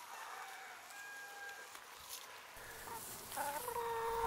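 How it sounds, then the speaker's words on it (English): Chickens cluck and call in a pen on a bush homestead, several birds heard at moderate distance with short bursts of clucking, fairly quiet outdoor setting. "we'll go and have a look at our other chickens that we've moved into another pen"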